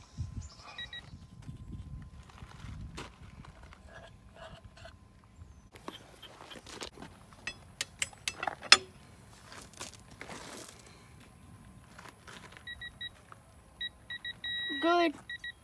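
A few electronic beeps sound over quiet rustling and handling noises, with a short burst of rapid beeps near the end.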